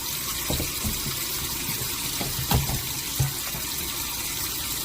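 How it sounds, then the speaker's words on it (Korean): Perilla leaves are rinsed under a running kitchen tap, a loud, steady rush of water with a few splashy knocks and rustles as the leaves are handled, and nobody speaks. "흐르는 물에 이렇게 헹구면 돼요."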